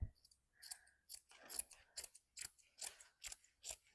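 Scissors cut through a piece of burlap coffee sack, a steady run of about ten crisp snipping chomps in a regular rhythm, close and clear with no talking.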